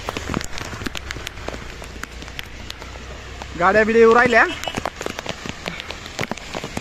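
Heavy monsoon rain in Lonavala, a dense, continuous patter hissing on surfaces, with someone talking over it in the middle.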